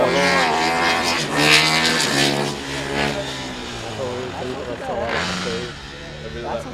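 Formula SAE race car with an internal-combustion engine launching off the line at an acceleration event, its engine revving hard in rising harmonic sweeps, loud and continuous under commentators talking throughout.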